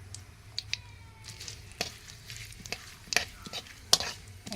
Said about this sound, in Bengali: প্রথমে ঘি দিলাম কড়াতে, তারপরে কিছু পরিমাণ তেজপাতা দিয়ে দিলাম।